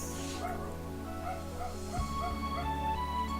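Dogs yip and whimper in a series of short, high, rhythmic barks over a steady hum and background music, fairly close and unbroken by talk.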